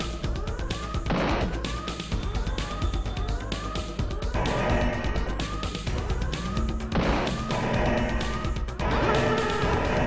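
A wailing siren from the Star Control II: The Ur-Quan Masters video game, rising and falling in repeated sweeping tones over a dense, loud game soundtrack throughout.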